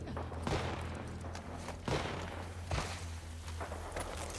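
Gunfire in The Last of Us Part II comes as a few loud, sharp shots spaced about a second apart, each with a booming tail, over steady game ambience.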